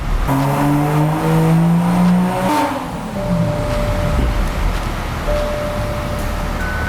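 A Toyota A90 Supra with an AEM intake runs on a dyno, its engine climbing loudly through rising revs before an abrupt drop to a lower drone, with whine and exhaust roar close by.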